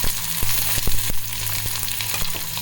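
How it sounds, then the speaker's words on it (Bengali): Chopped onion, one dried red chilli and two cinnamon sticks sizzling in hot oil in a kadai, a loud dense crackling hiss close up, with several sharp taps and scrapes of a spatula. "কড়াইতে যে তেল আছে তাতে ফোড়নে দিয়ে দিচ্ছি একটি শুকনো লঙ্কা আর দুটো দারচিনি, আর দিয়ে দিচ্ছি পেঁয়াজ কুচি।"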